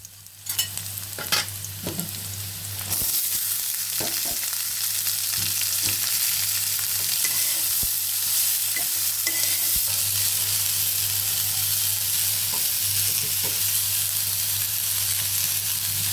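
Steady, loud sizzling of onions and whole cumin frying in hot oil, with a few scraping stirs at the start and a low constant hum underneath.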